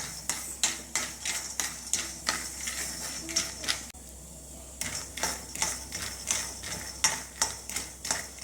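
Peanuts roasting in a pan are stirred in a quick, steady rhythm, each pass a crisp rattling scrape against the metal, close and clear, with one brief pause before the stirring resumes.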